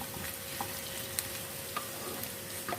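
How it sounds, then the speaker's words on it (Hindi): Onions frying in oil for a spiced liver (kaleji) masala give off a steady, close sizzle that holds throughout, with a few faint clicks on top and no speech. "प्याज को भी ऑयल में मिक्स कर लेते हैं और फ्राई कर लेते हैं।"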